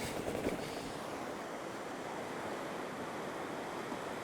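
Sea waves and swell washing onto a Northumberland beach, a continuous broad roar of surf with wind buffeting the microphone, fairly loud and steady, no voices.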